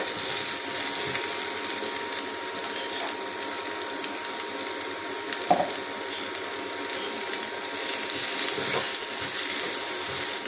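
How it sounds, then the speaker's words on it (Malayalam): Sliced onions sauté in a pan for a quick onion curry, giving a steady, loud, close sizzle with faint stirring scrapes throughout and no talking. "അപ്പോൾ നമ്മൾ സവോള അരിഞ്ഞ് വെച്ച് സവോള തേക്കുക"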